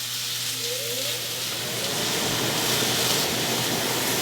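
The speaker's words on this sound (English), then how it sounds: "You can hear the sizzle?" A loud, continuous broadband sizzle of onion in a hot, smoking pan, steady and close, growing slightly rougher partway through.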